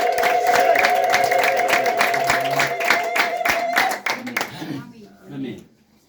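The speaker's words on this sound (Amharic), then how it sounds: "ያልቀና አንድ ጊዜ ጭብጨባ" A church congregation claps in rapid, rhythmic unison, sharp hand strikes close and loud for several seconds before fading out, with voices talking over the clapping.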